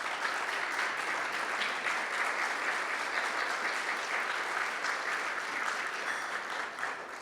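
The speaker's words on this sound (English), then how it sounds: "Let's give them a round of applause" An audience at an ambassadors' event applauds council members standing for recognition: sustained, dense clapping from a large crowd, steady and loud throughout with no pauses.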